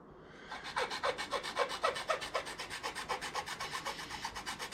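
A plastic taillight housing from a 2003 Hemi Ram is cut by hand with a saw, its rapid, rhythmic rasping strokes repeating close and steady after a brief start, with no voices.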